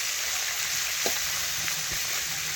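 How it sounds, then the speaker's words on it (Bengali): Small puti fish frying in hot oil give a steady, moderate sizzle throughout, with a few faint clinks of stirring and no talking. "প্রথমে দেখুন তেল গরম করে আমি পুঁটি মাছগুলো দিয়ে দিয়েছি"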